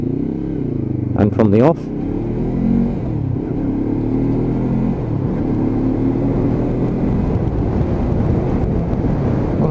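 A Lexmoto LXR 380cc motorcycle engine gives a steady deep rumble while riding, with heavy wind buffeting, and someone talks over it early on.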